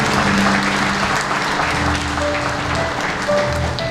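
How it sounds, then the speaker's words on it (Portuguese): A church congregation applauding a member, with steady, dense clapping throughout and some faint tonal hum underneath. "Vamos aplaudir a vida do irmão Guilhermo."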